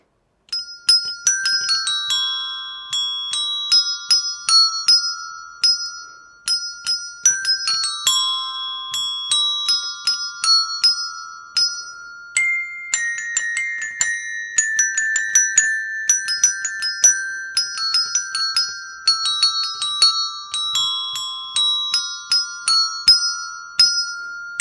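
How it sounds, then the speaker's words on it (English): Ding Dong Merrily on High rung out on a set of tuned desk bells, bright ringing tones struck one after another in a steady melodic rhythm, each note sustaining and overlapping the next, close and clear with no voices. "the bonus song on the desk bells"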